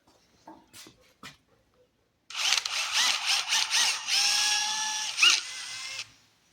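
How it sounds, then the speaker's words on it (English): A few faint clicks, then a power drill whirs loudly for about four seconds drilling the head off a fastener, its pitch rising slightly as it bites, before stopping abruptly. "Drill the head off."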